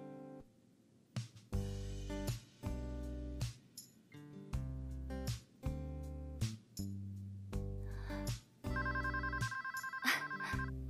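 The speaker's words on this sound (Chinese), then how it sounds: "电话。" A telephone rings in a repeated electronic ringtone pattern, loud and close, with regular bursts separated by short pauses, ending in a sustained higher-pitched tone.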